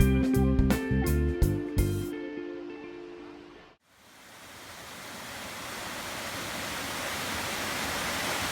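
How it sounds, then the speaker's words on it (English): Crystal Falls, a mid-sized waterfall in Northern Ontario, gives a steady broadband rush of running water that swells up after a stretch of unrelated tones and then holds constant. "below us you can hear running water"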